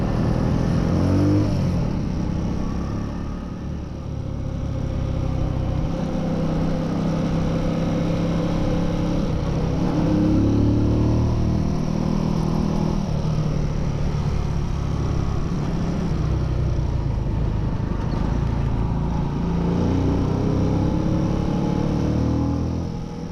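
A Honda Super Cub NBC110 motorcycle engine on a ride in New Zealand, a steady, loud low drone with gentle rises and dips in revs as it rides, heard close with wind rush.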